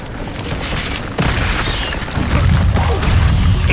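Incendio fire spell cast in the Hogwarts Legacy video game, a loud whooshing burst with a sharp crash near the middle, followed by sustained roaring, crackling flame noise.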